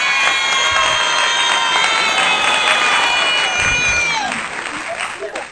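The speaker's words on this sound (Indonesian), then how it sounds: "Tepuk tangan meriah." Loud, dense applause and cheering from a school crowd at an outdoor student talk-show rally, with shouting voices layered over continuous clapping that tapers slightly at the end.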